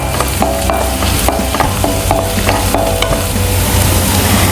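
Ginger and chilli frying in a pan for Indo-Chinese chicken chilli, a loud steady sizzle with repeated scraping stirs of a spatula, no talk.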